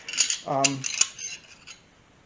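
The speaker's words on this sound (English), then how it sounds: "There's all sorts of different tire spoons." Metal tire spoons, including Bike Master, old Motion Pro and Melco levers for changing a tire on a spoked motorcycle wheel, clink and clatter briefly as they are handled and set down, a few close bright metallic taps.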